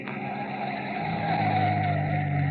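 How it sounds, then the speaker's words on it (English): A single car on a lonely dirt road beside a village cemetery at night rolls along and slows to a stop, a steady close engine drone with tyre crunch and a low idle tone settling in at the end, staged as a radio-drama effect. "a single car slows to a stop"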